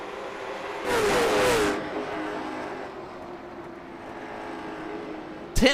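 Late model stock race cars at Kern County speedway roar past on the track. A loud engine surge swells and fades early on, then a steady distant engine drone runs under the crowd, and a sharp burst comes at the very end.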